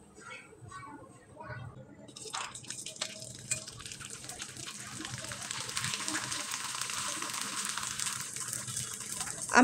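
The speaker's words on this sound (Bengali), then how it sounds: "আমি একইভাবে বেশ কয়েকটা পিঠা ভেজে দেখিয়ে দিলাম" Rice-flour pitha cakes frying in hot oil, a soft bubbling that swells into a steady bright sizzle after a brief quiet start, growing louder toward the end with no speech over it.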